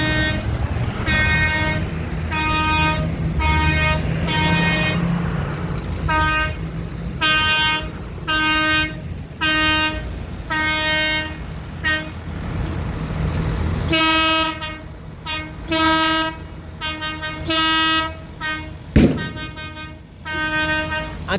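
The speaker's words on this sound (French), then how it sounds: "Un klaxon comme ça" A loud tractor horn honks repeatedly in long and short blasts at a farmers' protest, close by, with engine rumble underneath.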